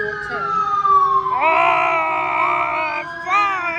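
Emergency vehicle sirens, including a fire engine, wail loudly and close by in a city street, layered sweeping tones that slide down, swell, and rise again in overlapping cycles with no talk.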